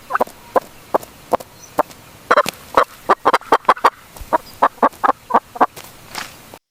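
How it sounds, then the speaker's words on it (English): A hen clucks in a run of sharp, close, loud calls, at first spaced, then quicker and more regular, with no talk. "This is a hen."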